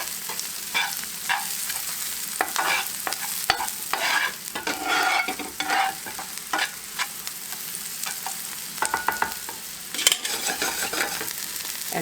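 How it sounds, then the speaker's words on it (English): Garlic frying in a pan for fried rice, a continuous soft sizzle broken by repeated scraping and stirring strokes from a utensil, moderately close and with no talking. "So I'm just going to cook it for about a minute with the garlic"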